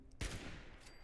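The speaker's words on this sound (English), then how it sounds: "But say you need a little range, you've got your sniper rifle. You pull that out, bang." A single sharp sniper rifle shot in Fallout 76 cracks out loud and close, with a decaying tail afterward.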